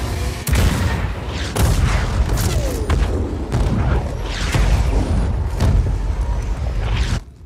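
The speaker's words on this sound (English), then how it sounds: "Engage all artillery towers." Artillery towers fire in the Just Cause 4 video game, producing loud, heavy booms that roll into one another in a dense barrage with a few sharp mechanical cracks, continuous throughout.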